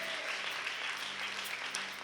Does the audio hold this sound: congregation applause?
yes